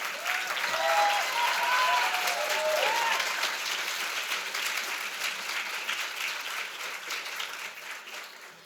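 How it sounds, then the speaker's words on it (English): Audience applause at a Women in Business breakfast held by a chamber of commerce in Sault Ste. Marie, a sustained round of clapping from a crowd that slowly fades, with some faint voices underneath. "a round of applause for Nelda Rimmer"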